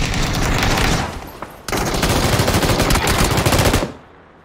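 Sustained automatic gunfire in the battle royale game PUBG, loud rapid bursts of shots that briefly pause and then resume in a dense rattling stream before cutting off abruptly.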